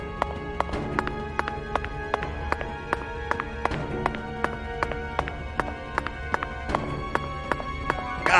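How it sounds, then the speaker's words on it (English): Heavy footsteps in the video game Deadly Premonition 2 thud out in a quick, regular running rhythm, loud and close, with sharp repeated impacts over a faint background and no talking. "the footsteps are fucking loud"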